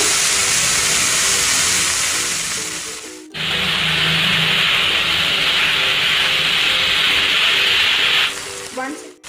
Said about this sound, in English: In goes the minced chicken.